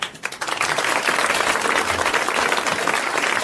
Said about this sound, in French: Et vous allez applaudir comme il le mérite, Monsieur Rigaud de Famard.